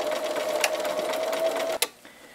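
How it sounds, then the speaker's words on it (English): A sewing machine runs steadily close by while top stitching a tote bag, a fast even whirring hum that stops abruptly with a clunk near the end. "I'm just going to do the top stitch all the way down to where I stopped pulling out the stitches."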